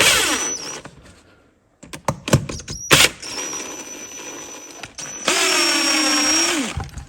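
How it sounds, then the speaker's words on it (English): Power tool or drill whirring in short bursts and a longer whine while backing off the carburetor studs with a 5/32 socket on a 22–26 hp Briggs and Stratton V-twin with a Nikki carburetor, with sharp clicks between runs. "we're going to back off these studs here with a 5/32 socket"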